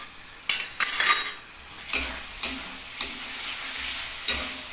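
Homemade tandoori masala being stirred into chana dal frying in a pan, with a few scraping utensil strokes against the metal over a soft, steady sizzle, fairly close.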